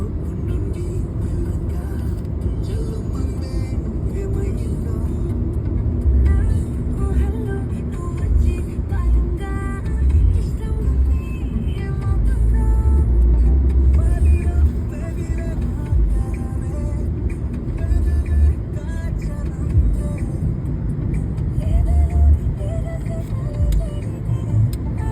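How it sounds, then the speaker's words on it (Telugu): A Maruti Suzuki Baleno fitted with additional steering drives and accelerates through the gears, giving a steady low engine and road rumble heard from inside the car that swells slightly in places, with no clear talking. "సో ఇప్పుడు మా తమ్మ థర్డ్ గేర్ వేశాడు."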